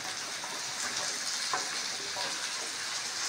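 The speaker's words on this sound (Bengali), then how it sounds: "তেল ছেড়ে গেছে, এবার একে একে কেটে রাখা সবজিগুলো দেব। ফার্স্টে আলুগুলো দিচ্ছি।" Potatoes and cut vegetables dropped into hot oil for a mixed vegetable and prawn dish, a steady faint sizzle with a brief clink near the middle, close and even throughout.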